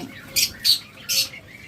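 Budgerigars in a sale cage give three sharp, loud squawking chirps at even spacing over a softer background chatter.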